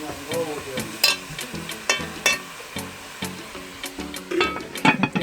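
Dumplings frying in a pot outdoors, with sizzling oil broken by repeated sharp scraping and stirring clanks of a utensil against the pot, close and fairly loud, with brief background voices.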